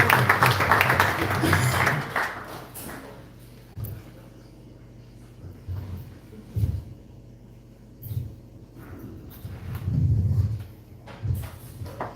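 Audience applause at a talk, a dense burst of clapping for about two seconds that quickly fades into scattered low thumps and room noise.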